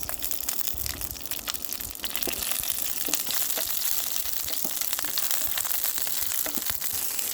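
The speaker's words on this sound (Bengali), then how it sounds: "এখন এখানে সরিষার তেল দিয়ে দিচ্ছি ভেজে নিচ্ছি শুকনা মরিচ এবং কাঁচা মরিচ" Dried and green chilies frying in mustard oil on a hot tawa give a steady crackling sizzle with scattered sharp pops throughout, close and continuous with no talk.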